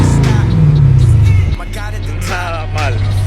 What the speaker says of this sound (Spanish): Tenemos un sistema de escape customizado,